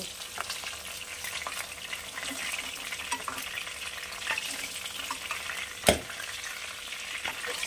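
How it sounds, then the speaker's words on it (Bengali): Pieces of boal fish frying in oil for a Bengali fish curry, giving a steady close crackling sizzle throughout with one sharp louder pop near the end. "এইভাবে সবকটা মাছ আমি ভেজে রাখবো।"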